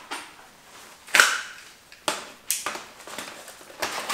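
Paintball gun magazines handled in Fastmag pouches: a few separate sharp plastic clacks and snaps, close and moderately loud, spaced irregularly over a quiet background.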